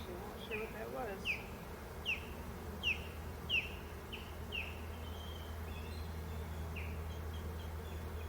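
Repeated short bird calls near beehives during a June hive inspection, about six evenly spaced chirps over steady outdoor background hum.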